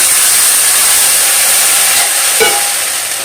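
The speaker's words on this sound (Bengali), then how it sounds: "এখন আমি চিনিটা দিয়ে দিচ্ছি, দিয়ে একটু জল দিয়ে দিচ্ছি" Sugar and water go into hot oil in a pan while making raw mango and cashew chutney, giving a steady loud sizzling hiss with a brief splutter near the end.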